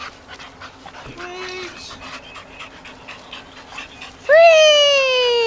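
A dog pants and whimpers softly, then lets out a loud, high, drawn-out whine near the end; a person says a single word.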